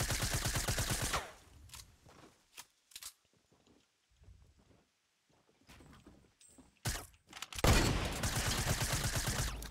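Rapid SMG fire in the Fortnite video game: two loud, sustained bursts of fast rhythmic shots bracket a quieter stretch of scattered footsteps and small clicks.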